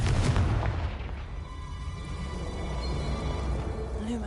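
An explosion spell goes off in a wizard video game, a loud booming blast at the start that fades into a rumbling roar and lingering crackle.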